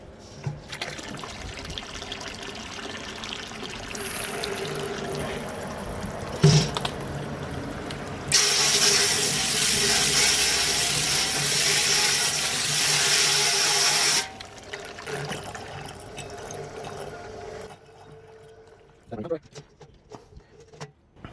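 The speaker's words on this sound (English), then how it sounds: "Turn the tap on." Water gushing from the tap of a BrewZilla Gen4 brewing system into a bucket during cleaning, a loud steady rush lasting several seconds, framed by quieter mechanical clicks, clanks and trickling before and after.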